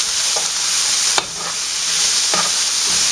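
Pork browning in a pan, a continuous bright sizzle with a few sharp spatula scrapes and stirs cutting through it, close and alone.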